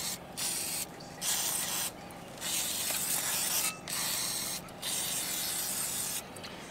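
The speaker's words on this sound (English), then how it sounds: "I'm going to spray all these down with WD-40." Several bursts of WD-40 aerosol lubricant hissing close by onto corroded Airstream trailer wheel parts, each lasting about a second, separated by short pauses with faint mechanical clicks.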